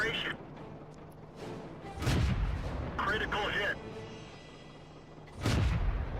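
Marder 38T tank destroyer's gun firing in World of Tanks, three heavy booms spaced a few seconds apart, loud and close, over a steady low battle rumble.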